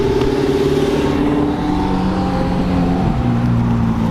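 An Audi R8 followed by a McLaren 720S drive past on a mountain road, engines droning loud and close with a rising pitch and a shift near the end.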